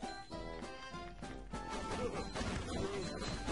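Boxes break in the video game SpongeBob The Movie Game, a run of crashing smash hits over steady game music, moderately loud and close.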